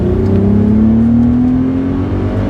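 A car accelerates hard at high speed, its engine note climbing steadily and loud, with constant road and wind roar and no talking.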